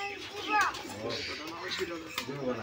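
Giribaz pigeons coo softly in a loft, with a few low, rolling calls under someone talking nearby.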